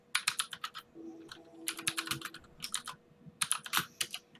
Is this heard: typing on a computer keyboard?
yes